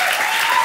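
Sustained audience applause greeting Helene Fischer at a German talk show, a dense, steady wash of clapping throughout the brief moment with no voices over it.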